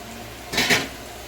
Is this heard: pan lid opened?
yes